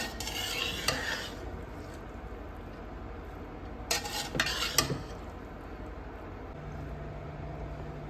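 A spoon scrapes and stirs through rice in a pot in steady sweeps, with a few sharper clinks of metal on metal partway through. No one talks.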